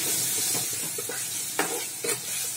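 Spice masala fries in oil in a clay pot for mutton curry, a steady close sizzle with soft stirring scrapes and a couple of sharper clinks near the end, no voices.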